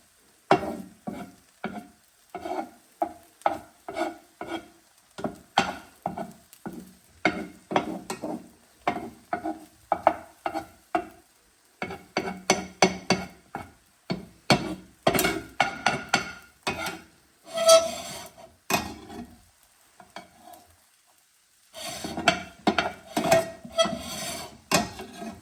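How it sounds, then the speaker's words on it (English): A Korean rolled omelette setting and cooking in a pan, with intermittent clinks and scrapes of utensils against the pan over a light sizzle, coming in irregular bursts with short quiet gaps and no speech. "Now I'm just going to kind of let the omelette kind of set"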